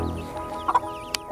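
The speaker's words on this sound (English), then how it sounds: "doing awesome with her chickens out here with her little chicks" A broody hen with her young chicks gives a few short, soft clucks close by over quiet background hum, with two brief bursts spaced apart.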